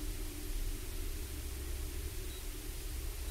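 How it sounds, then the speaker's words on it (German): Loud, steady static hiss fills a horror video game, Silence Channel 2, unbroken and without any voices. "Alter, das Rauschen, Leute, ist so laut."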